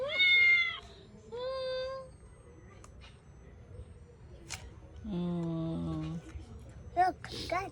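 A toy cat meows repeatedly in short, tonal bursts, with a long meow near the start and another in the middle, over a steady room hum and brief clicks, and no one talking over it.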